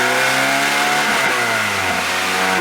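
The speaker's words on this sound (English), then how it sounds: "Ooh, that exhaust sounds good." A stock Lotus Exige engine revs hard and loud on a dyno, its exhaust note rising and shifting in pitch in a sustained roar, with no voices.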